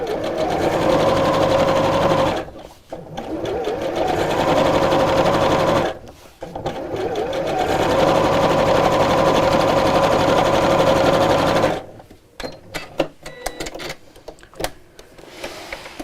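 A sewing machine stitches down both sides of a zipped fabric pouch in long, loud continuous runs, pausing briefly twice, then ending in scattered clicks and handling noises.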